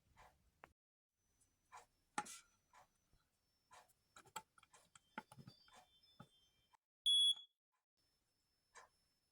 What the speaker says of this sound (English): I want to test and hold this button here to make sure it's working properly.